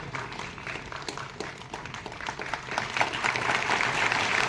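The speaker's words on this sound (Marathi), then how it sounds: "जोरदार टाळ्या वाजवूया" An audience applauds at a Marathi theatre event, dense clapping that holds steady for several seconds and swells slightly toward the end, with no voices over it.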